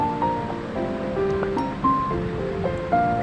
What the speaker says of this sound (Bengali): তেলের মধ্যে তেলটা একটু গরম হয়ে গেলে আমি গাজর আর ক্যাপসিকামটা দিয়ে দেবো হুম নেড়ে নেড়ে দিচ্ছি